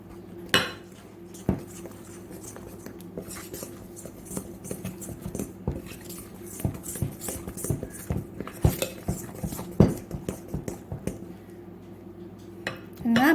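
Zebra cake batter with cocoa powder mixed in a bowl, giving a steady clatter and scrape of utensil against the dish with occasional sharper knocks, close and fairly quiet, no talking.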